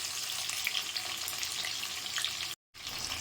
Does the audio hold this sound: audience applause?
no